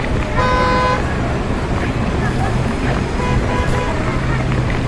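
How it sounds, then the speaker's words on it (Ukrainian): Dense, steady roar of street traffic with a brief car horn toot near the start, continuous and close throughout. "Гуркіт міських вулиць."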